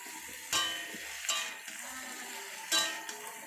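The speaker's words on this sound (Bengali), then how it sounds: "কুমড়োটাও একটু ভেজে নেব হালকা তারপরে আলুটা দিয়ে দিলাম" Pumpkin and potato sizzle steadily in a hot pan for oats khichuri, with a spoon stirring and scraping through three or four distinct strokes that clatter against the pan.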